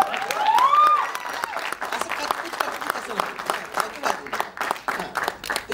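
An audience claps at an event for the Marathi film Ved, the sharp individual claps forming a loose, uneven rhythm after a brief pitched voice at the start.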